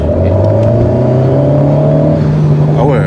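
Alpine A110 sports car running in sport mode with exhaust valves open, a loud steady engine drone holding a sustained tone close by, with a brief rising burst near the end and no clear speech.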